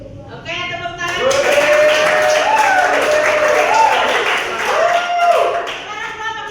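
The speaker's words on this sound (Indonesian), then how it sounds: "Oke, tepuk tangan." A classroom group claps after a Hindu religious education lesson, with a sustained burst of hand clapping mixed with voices and cheering from the students.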